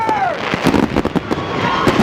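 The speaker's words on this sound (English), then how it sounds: "They gonna film the fireworks!" Backyard fireworks at a birthday party crackle and bang in a rapid series of sharp pops, loud and close, with a whistling rise at the start and voices nearby.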